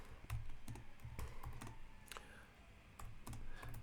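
Quick, irregular keystrokes clatter on a computer keyboard as Python code is entered, faint and close, with short pauses between bursts of clicks.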